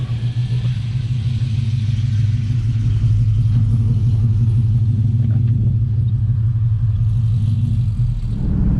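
A pickup truck towing a trailer cruises steadily down a road, its engine a constant low rumble with road noise droning throughout, heard from inside the cab.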